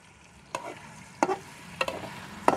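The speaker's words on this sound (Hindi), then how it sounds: "अब इसमें डालूंगी मैं आधा किलो, मेरे पास यहाँ पे चिकन है, और इसको हम फ्राई करेंगे" Half a kilo of chicken frying in a pan for an okra chicken curry, with several sharp stirring scrapes and brief sizzling bursts spaced about every half second over a low background hiss.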